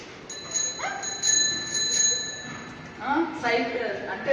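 A child's new bicycle bell rung repeatedly in quick bright dings, close by, with excited talk over the ringing.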